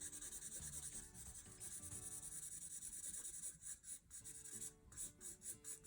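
Graphite pencil shading across paper while drawing a baby orangutan, a steady soft scratchy rubbing at close range with short strokes and brief pauses near the end.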